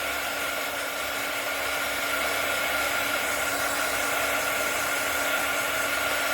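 Heat tool blowing over a polymer clay project to set it, a loud, steady motorized whine with an even airflow hiss that runs unbroken and close for the whole stretch.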